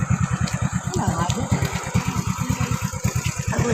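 A motorcycle engine putters in a steady, rapid low pulse close by while someone talks over it.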